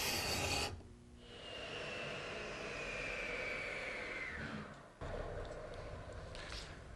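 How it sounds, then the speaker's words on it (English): A gooseneck scraper drawn across a wooden cove to smooth the surface, heard as a long, steady, close rasp that fades before a second scrape starts. "It's perfect to fit into our cove and scrape down the wood to a nice,"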